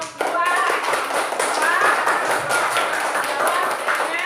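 Children in a classroom applaud a student group with a dense, continuous patter of many small hands clapping together at close range, accompanied by some voices and shuffling.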